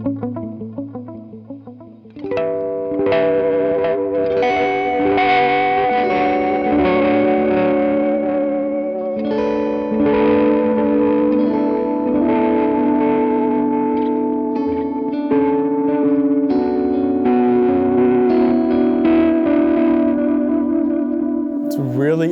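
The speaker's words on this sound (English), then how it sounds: "The next pedal I have is the Walrus Audio delay" Electric guitar played through a Walrus Audio D1 delay pedal on a pedalboard, sustained chords and ringing notes with echoing repeats and a spacious, effected wash, starting after a brief quieter lead-in and holding steady and loud throughout.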